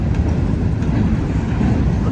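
A long freight train of empty wagons rolls steadily past close by after coming out of a tunnel, one wheel having a flat spot. The result is a loud, continuous low rumble and roar of rolling stock without a break.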